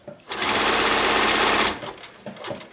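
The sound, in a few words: sewing machine stitching appliqué embroidery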